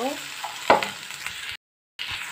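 Okra sizzles in a hot pan with egg as it is stirred, a close crackling fry with scraping strokes and a brief silent gap.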